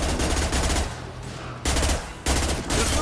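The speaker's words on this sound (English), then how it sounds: "Firing a high-impact shot!" Rapid bursts of heavy weapon fire in Mass Effect 2 ring out loud and close, with two short pauses breaking the volley into three dense stretches.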